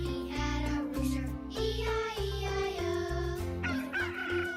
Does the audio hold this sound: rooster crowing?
yes